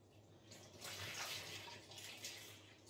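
Cold water pours into a bowl of flour, salt and yeast for bazlama flatbread dough, a close, steady splashing stream lasting a few seconds with no talk.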